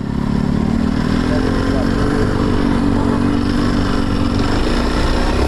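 A Kawasaki KLX 230 SM SE motorcycle accelerates hard in first gear, its single-cylinder engine droning loud and close with a rising pitch that holds steady throughout, with no voices over it.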